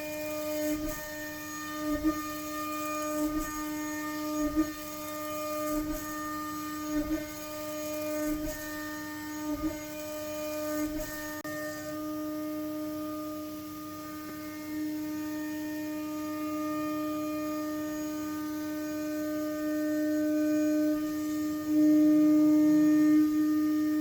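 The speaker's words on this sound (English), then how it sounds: "some footage of me machining parts for this build on my other DIY router" A home-built DIY CNC router machines an aluminium-style rear frame plate, a steady tonal whine with harmonics droning throughout, punctuated by regular rhythmic clicks and thumps as the cutter engages during the first half, then settling into a smoother continuous hum.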